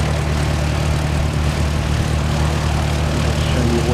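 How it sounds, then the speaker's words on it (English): A Skyhawk jet drones loudly and steadily close by with a deep, constant engine roar and a hissing rush layered on top, sustained without letup as it passes near a Christchurch airfield. "I'll show you what's making all the noise. It's the Skyhawk."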